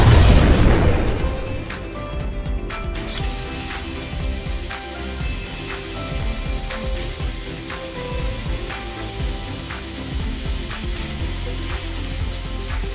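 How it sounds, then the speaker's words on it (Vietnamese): A MIG 250 PRO3 MIG welding machine on a test weld gives off a steady, crackling arc sizzle. An initial burst is followed by continuous frying noise with faint periodic ticks, and no voice is heard. "Vừa rồi kỹ thuật của chúng tôi đã tiến hành test máy hàng Mid 250 Pro 3"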